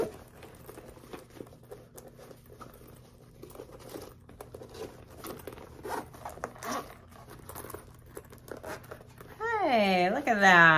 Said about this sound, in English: Make sure it zips up okay.